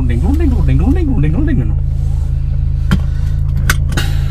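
A Peugeot RCZ Turbo car engine turns over and settles into a steady, loud idle, with a low drone continuing throughout and a few brief clicks near the end; a voice talks over the start.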